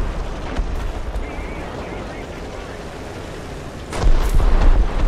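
A bomb explosion in War Thunder lands as a deep, heavy boom near the end. It rises over a constant rumble of engines and battle noise, and voices talk over it.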